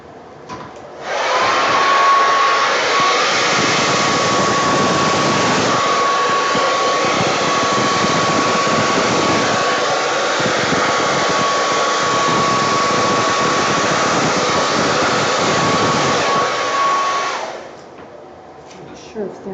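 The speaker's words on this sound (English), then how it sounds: "I'm gonna go ahead and try the dryer." A hair dryer used on wet poured paint switches on and blows with a steady, loud whooshing roar and a thin high whine for about sixteen seconds, then cuts off.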